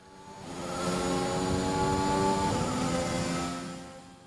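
A Formula 1 car's engine at full throttle in the video game F1 2021 at the French Grand Prix, a sustained high-pitched whine that swells up, holds steady for a couple of seconds and then fades, with no talking.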